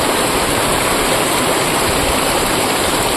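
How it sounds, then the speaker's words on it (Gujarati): Heavy village rain drums down in a thick, constant wash of noise, loud and near, steady from start to finish without any speech. "એવું થતો વરસાદ તો જોવો બહાર"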